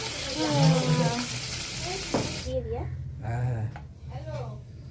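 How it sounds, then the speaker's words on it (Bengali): Fish frying in a pan gives off a steady broadband sizzle that fills the first half, then continues more quietly beneath a person talking. "এই মাছটা ভাজতে খুব ভয় করছে"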